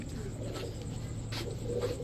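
A male Lal Patti pigeon gives soft, low, throaty coos close by, against a steady background hum.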